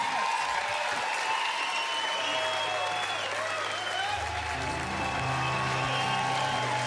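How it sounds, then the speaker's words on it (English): An audience applauds in a sustained burst of clapping, thick and continuous from start to finish, with the crowd's noise holding steady. "Another round of applause"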